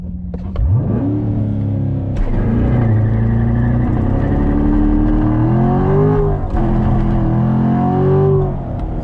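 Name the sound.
sports car launch control acceleration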